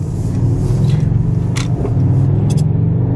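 Steady low engine rumble and road noise heard from inside a moving car, with the driver's-seat perspective; the car has a check engine light on and a failing O2 sensor, and the sound is loud and continuous with no talk.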